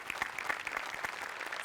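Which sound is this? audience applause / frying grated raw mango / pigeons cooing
audience applause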